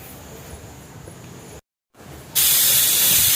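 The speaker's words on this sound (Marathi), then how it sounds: "तेल गरम करून जिरी मोहरी कढीपत्त्याची फोडणी दिली" Cumin, mustard seeds and curry leaves crackle and hiss in hot oil while being tempered, a steady spluttering sizzle that cuts out briefly, then returns much louder and brighter.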